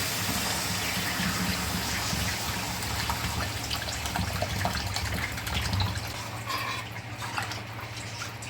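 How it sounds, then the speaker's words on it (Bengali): Water poured into a pan of spice masala for a pabda fish curry with potato, aubergine and lentil dumplings, a steady close gush that slackens slightly toward the end. "জল দিচ্ছি"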